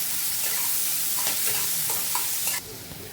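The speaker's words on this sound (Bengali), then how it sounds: "এবার দেখুন পেঁয়াজটাকে খুব ভালো মতো ভেজে নেব।" Sliced onions fry in hot oil with whole garam masala while being stirred with a spatula, giving a steady loud sizzle broken by scraping strokes that quiets near the end.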